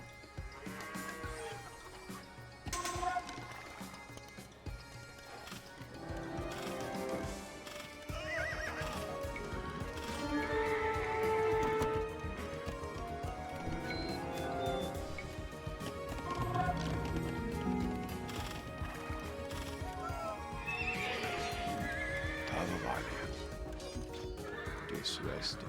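Horses neigh and whinny repeatedly over clip-clopping hooves in the Age of Empires II Dawn of the Dukes video game, with cavalry such as Tatar Kipchak horse archers, alongside game effects and a voice talking over them.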